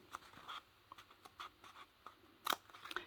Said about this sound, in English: enough for my scissors to fit in. And then I'm going to cut along that center line.